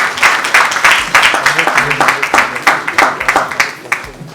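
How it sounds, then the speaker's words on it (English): Dense, steady applause from a conference audience, many hands clapping together in a continuous roar with sharp individual claps standing out, loud and close throughout. "Please can we give them all a round of applause?"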